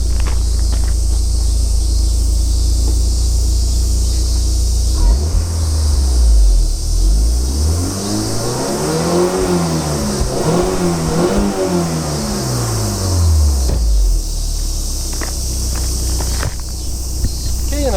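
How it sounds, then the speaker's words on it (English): A 2001 Mitsubishi Lancer GSR Evolution 7 engine revs up loudly through an aftermarket exhaust, the exhaust note climbing and falling in pitch over several seconds before settling back to a rumbling idle. "I'm going to get a quick exhaust note"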